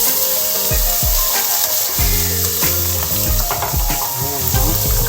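Onion and mushroom sautéing in a pan, a loud continuous sizzle and fry with repeated scraping stirs of a utensil against the pan.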